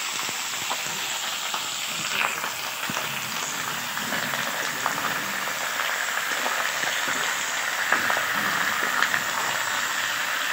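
Chicken sizzling and frying in a pan over an open fire at an outdoor picnic, a steady loud crackling hiss throughout with faint scraping, no talk.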